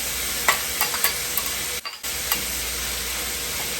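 Leftover turkey, peas and carrots frying in a pan for fried rice, a steady close sizzle with scattered crackles and stirring clicks, briefly dropping out for a moment before the hiss resumes.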